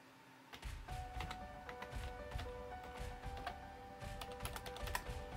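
Fingers tap a password on a computer keyboard in a steady run of quick, soft keystrokes with a few brief pauses, close by and fairly quiet over a faint electronic hum.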